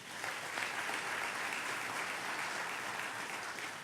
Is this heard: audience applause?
yes